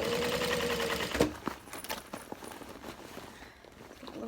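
A sewing machine stitching a tote bag, a quick rattling run of the needle for about a second, then quieter handling and shuffling of fabric, faint overall.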